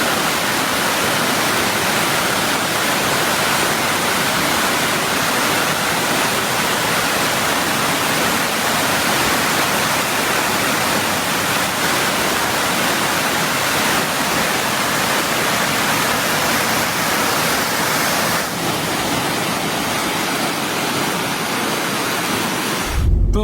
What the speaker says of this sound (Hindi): बहुत ऊंचाई से तो पानी यहाँ पे नहीं गिर रहा, लेकिन जैसा है ऐसा है भाई।